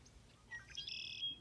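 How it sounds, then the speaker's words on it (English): Faint bird chirps and short whistled tweets in the distance outdoors, a few quick calls over quiet background. "I can hear the birds in the background."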